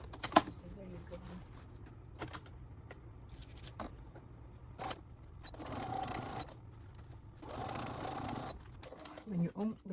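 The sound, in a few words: sewing machine stitching a patio chair cushion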